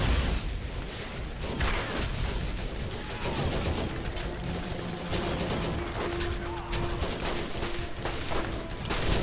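Dense, continuous gunfire and battle noise in the video game Borderlands, a revolver among it, forming a loud wash of overlapping shots with brief mechanical clanks and tones layered throughout.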